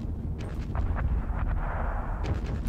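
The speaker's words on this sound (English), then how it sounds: "And these are six heavy mortars. Let's hit this position." Six heavy mortars fire on a position in the Panzer Battles wargame, a string of muffled booms and thumps rolling through a continuous low rumble, close and fairly loud with no talk.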